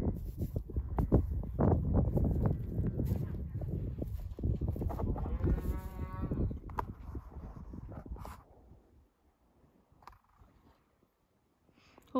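Shorthorn cattle on a farm with a cow and newborn calf nearby, a dense stretch of close animal calls and movement for most of the clip before fading to near quiet, with a few scattered sounds at the end.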